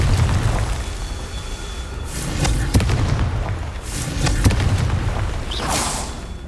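Confringo blasting spell fired in the Hogwarts Legacy video game, producing booming fiery explosions over a low rumbling game backdrop, several loud bursts in a row.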